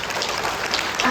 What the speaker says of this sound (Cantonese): 請以熱烈掌聲歡迎。